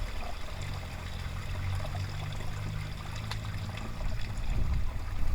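Running water in a stream in woodland, a steady low rush and trickle that holds throughout and grows a little louder toward the end, with no voices.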